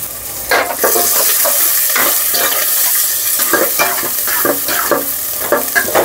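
Green chillies and onion frying in a pan, sizzling loudly and steadily as a spoon stirs and scrapes them in a quick, repeated rhythm.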